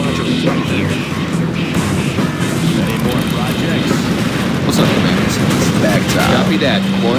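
Rocket launcher fire and heavy explosions in the Command & Conquer Generals Zero Hour skirmish, loud and dense throughout with booming blasts, unit voice lines layered over the battle.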